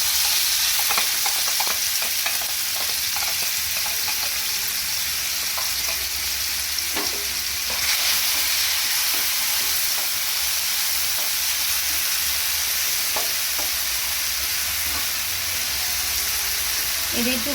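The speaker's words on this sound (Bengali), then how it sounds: "তেলটা গরম হওয়ার পরে এই যে পেস্টটা করেছিলাম সেটা পুরোটাই আমি দিয়ে দেব।" Spice paste frying in hot oil in a pan for chicken moghlai, a loud continuous sizzle with repeated scraping and stirring clicks close by, without talk.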